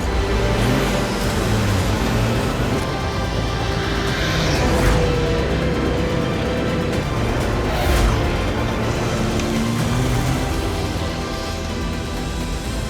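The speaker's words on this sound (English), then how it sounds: "So for his final lap, Guy gives it everything." Race car on its final lap, a continuous loud engine drone with a couple of brief rushing swells as it passes, no talk.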